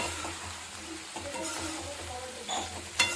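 Eggplant with salt and turmeric fries in a pan under a soft continuous sizzle, with light stirring scrapes and a sharp clink of utensil on metal near the end.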